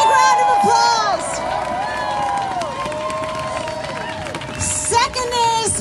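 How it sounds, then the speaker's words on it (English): An audience at a writers' benefit event applauds the readers and singers, with crowd noise and some cheering under strong sustained tones and pitch sweeps that mostly mask the clapping. "Give them a big round of applause."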